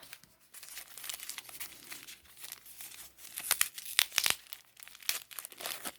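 Paper wrapping from a Transformers toy box crinkles and tears in close, uneven bursts, louder rustles clustering toward the end, with no talking.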